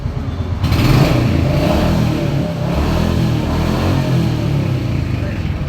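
A 2023-model motorcycle engine starts after a brief quiet moment, then runs and revs loudly and steadily at close range with a rough, rumbling tone.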